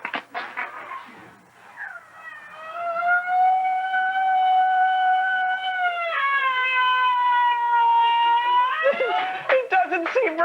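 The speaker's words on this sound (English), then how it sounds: "That's a feline moan." A cat lets out a long, drawn-out wailing moan, rising and holding in pitch for several seconds, with shorter yowls at the start and end.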